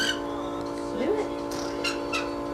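A pet bird gives a few sharp squawks and chirps indoors, close and fairly loud, mixed with human voices and household sounds.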